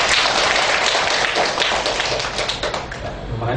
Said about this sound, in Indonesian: Mohon tepuk tangannya buat Pak Kabul.